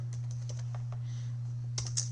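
Typing on a computer keyboard, a quick run of separate key clicks, then a pause and a tight burst of keystrokes over a steady low electrical hum.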